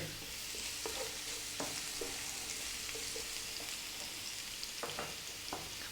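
Ginger sticks and garlic frying with fennel seeds for vegan carrot rice, a soft, quiet sizzle with scattered clinks of a utensil against the pan.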